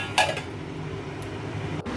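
A metal lid clanks down onto a cooking pot in a home kitchen, one bright clink near the start, followed by a low steady hum of background noise.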